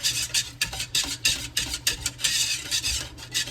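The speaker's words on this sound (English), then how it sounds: "we're gonna at least take one and whisk it up as good as we can" A whisk scrapes and rattles rhythmically against a pot as strawberry mixture is beaten, with quick close strokes in an uneven, brisk pattern and no talk.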